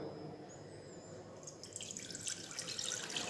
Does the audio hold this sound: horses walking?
no